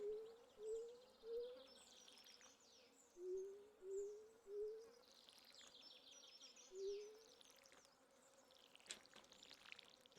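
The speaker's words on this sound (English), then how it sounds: "You can hear the little bees and flies of summertime." Buzzing bees and flies drone softly in the background of the Stardew Valley video game on a summer day, with a repeated rising tonal call sounding in short bursts, like a distant bird or game effect.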